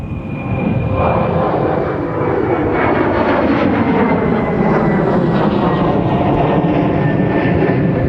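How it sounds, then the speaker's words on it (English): A CRJ regional jet passes at Minneapolis–St. Paul airport, its engines a loud, continuous roar with a slowly shifting whine, steady and near throughout, with no talk. "Another one of those pesky CRJs."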